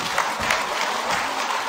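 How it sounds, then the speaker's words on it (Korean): Brief burst of audience applause at a 2016 Korea–China culture and arts festival concert, a steady wash of clapping greeting a speaker. "여러분 박수로 맞아주십시오."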